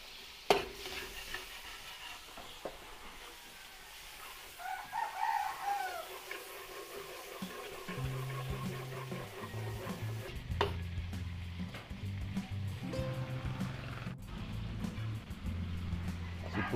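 Garlic sautéing in melted margarine in a pan gives a steady, faint hiss, with a rooster crowing somewhere in the background and a low droning hum joining in partway through.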